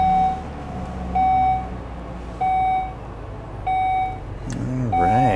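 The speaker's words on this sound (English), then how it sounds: "We have a push button ignition." Push-button ignition of a 2012 Volvo XC60 T6 R: a series of short, evenly spaced chime beeps repeats over a low hum, then an engine note rises at the end.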